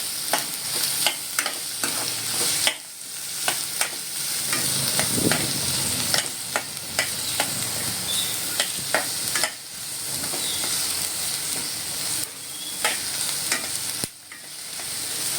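White onion sautéing in oil for Maharashtrian gavran chicken sukka, a continuous close sizzle with repeated spatula scrapes and brief pauses between stirs.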